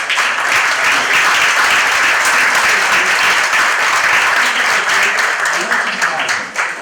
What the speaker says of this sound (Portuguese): uma salva de palmas ao nosso time de TI, nosso time da CECAP